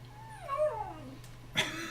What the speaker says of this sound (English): That's the dog making a fuss.